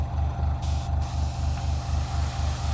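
An airbrush hisses as it sprays paint onto a 1/84 scale HMS Victory model, a steady close hiss over the low pulsing throb of a compressor.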